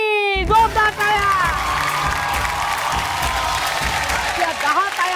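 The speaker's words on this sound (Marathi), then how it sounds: "जोरदार टाळ्या" Loud applause and cheering from a studio audience at a Marathi women's game show, starting after a short musical sting and continuing steadily with crowd noise and a few whoops.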